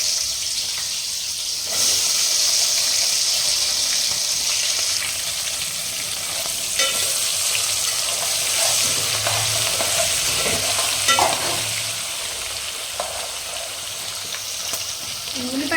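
Green chillies and onions fry in a pan as the base for a mutton curry, with a steady sizzle, stirring scrapes and light clatter running throughout.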